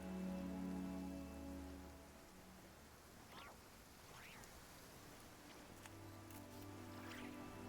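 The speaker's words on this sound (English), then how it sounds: "Oh, it's raining." Rain falls steadily in a Hoyoverse video game, a soft continuous patter alongside music tones and a few brief quacking or chirping calls, fairly faint overall.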